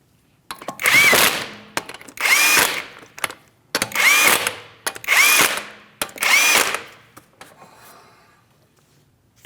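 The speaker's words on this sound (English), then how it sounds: "go ahead and start on all 5 of your 19mm lug nuts" Power tool runs 19mm lug nuts onto a 2015-2016 Chevrolet Malibu wheel in five loud, close bursts of roughly a second each, separated by short pauses, with no talking.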